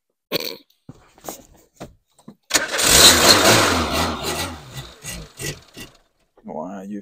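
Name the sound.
Peugeot 205 turbo engine starting and running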